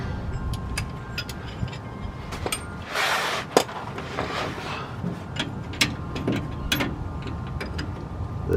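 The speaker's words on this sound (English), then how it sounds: "I have some ratchet action" Ratchet wrench tightening bolts on the front Rancho shocks of a 1984 Chevy K20, giving scattered close metallic clicks and short bursts of ratcheting amid quiet shop background.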